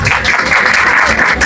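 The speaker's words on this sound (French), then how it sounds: "Je vous demande d'applaudir encore une fois, Ariana." Audience applause at a French-language speech and comedy event, a steady dense wash of clapping that holds loud and continuous for the whole moment with no voices over it.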